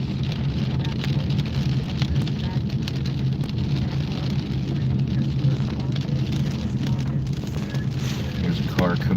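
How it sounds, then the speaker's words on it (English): A car passes on a rain-soaked road in Tampa during Hurricane Milton, its tyre hiss blending into steady rain and wind noise, with no talking. "There's a car coming out the other way."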